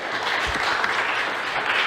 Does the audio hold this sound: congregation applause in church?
yes